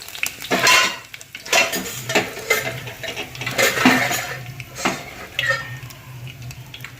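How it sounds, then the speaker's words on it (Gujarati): Curry leaves, mustard seeds and cumin sizzle in hot oil while a spoon scrapes and clinks against the pan, giving rhythmic metallic clatter over a low frying hiss, close by, with no speech. "પછી લીમડાના પત્તા એડ કરીશું"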